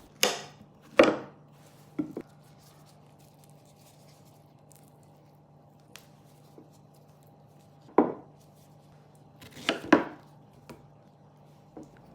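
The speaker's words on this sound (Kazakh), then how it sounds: "Аталған көкөністерді жуып, аршып, тазартып, турап дайындап аламыз." Beetroot, dates and banana being chopped with a knife on a board for a smoothie: a handful of sharp, separate knocks spread out with long quiet gaps, near and fairly loud over a faint steady hum.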